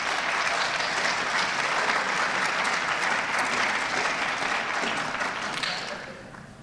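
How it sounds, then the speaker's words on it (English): Applause from an audience at a high school winter sports awards ceremony, steady and full for about six seconds before tapering off at the end. "let's give them a round of applause"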